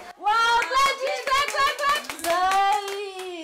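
Children clap hands at an early childhood care and development centre, a quick burst of small claps mixed with children's voices and speech throughout.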